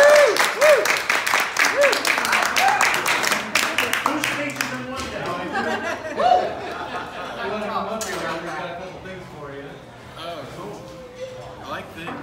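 An audience at a farewell speech breaks into applause, dense clapping that starts loud and thins out over several seconds while people chatter and talk through it.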